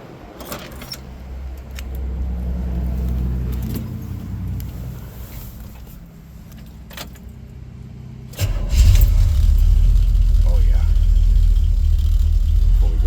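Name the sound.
classic car engine starting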